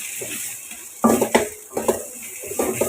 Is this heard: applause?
no